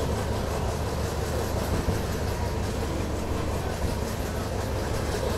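Pinakini SF Express, train 12712, rolls along the rails on the Chennai–Vijayawada run, giving a steady, loud, continuous rumble of wheels and carriages with no talk over it.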